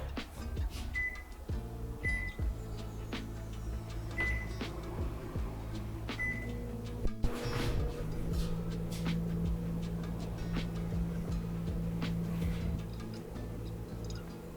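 Microwave oven heating a container of beer in a home kitchen, a low steady hum running throughout with a few ticks and clicks over it and a sharp knock midway.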